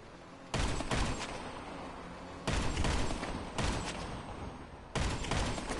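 Bursts of rapid gunfire ring out in Grand Theft Auto V, with several loud sustained volleys starting abruptly and trailing off, close and harsh, with no talk during the shooting.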